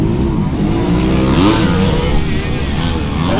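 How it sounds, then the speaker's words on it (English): Motocross bike engine, the number 77 machine, running rough and misfiring as if not firing on all cylinders, a continuous buzzing drone with wavering pitch and uneven revs, fairly close, with other bikes faintly behind. "Sounds like the choke zone. Something not firing on all cylinders or not completely tuned the way it needs to be for the 77 machine of Plaster."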